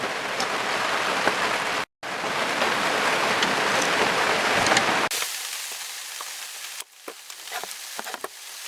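Rain falls outdoors during a valve cover gasket change on a 1998 Toyota Tacoma, a steady hiss of drops on surfaces that briefly cuts out, then continues more softly with scattered splashes.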